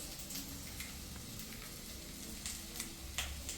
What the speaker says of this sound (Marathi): ऑनियन आणि शिमला मिरची मस्त असं भाजून घ्या फ्राय करून